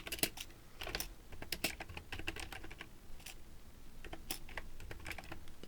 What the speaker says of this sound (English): You can either type it in directly with your keyboard.